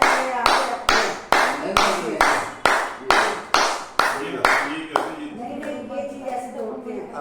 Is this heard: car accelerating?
no